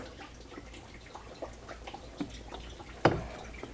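Coolant from a defective Audi Q7 water pump drips into a drain container under the vehicle: sparse, faint drips, then one sharper splash near the end.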